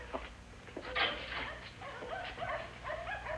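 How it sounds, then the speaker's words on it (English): A small dog whimpers and gives short high yips in a quiet indoor setting, the plaintive cries rising and falling over a low background hum. "That little dog, he could never be a watchdog"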